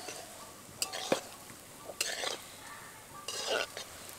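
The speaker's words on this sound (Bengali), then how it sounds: "এখন খুন্তি দিয়ে এভাবে উল্টে পাল্টে খুব ভালোভাবে সব দিকটা ভেজে নেব।" Chhana (cottage cheese) balls frying in a pan of oil, turned over and over with a spatula: scraping, stirring strokes and a few sharp clinks of metal on the pan over a soft steady sizzle, close by.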